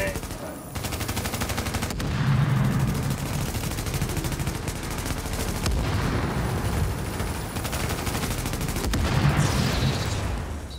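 Sustained automatic gunfire and rapid shots rattle loudly throughout a Tom Clancy's The Division incursion fight, with a few bursts standing out sharply.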